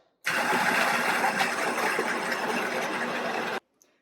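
A Casabrews 5700 Gense espresso machine's built-in grinder fills a portafilter with coffee grounds, a loud, steady mechanical whirring that starts abruptly, runs about three seconds and cuts off cleanly.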